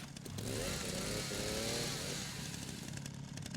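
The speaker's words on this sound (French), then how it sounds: "C'est encore la tronçonneuse qu'on entend?" Chainsaw in the video game Resident Evil 9, a steady mid-pitched motor drone that runs loud and continuous with slight revving swells throughout.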